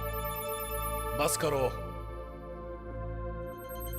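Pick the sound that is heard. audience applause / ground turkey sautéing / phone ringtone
phone ringtone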